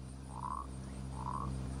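Two short, rising frog croaks ring out about a second apart over a faint low hum in a Unity game, each a clear, moderately loud call standing alone.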